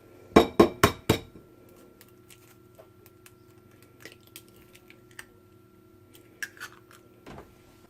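One egg cracked into a bowl of mashed banana: a quick cluster of four sharp taps of shell on the bowl rim near the start, followed by faint scattered clicks and soft kitchen noises.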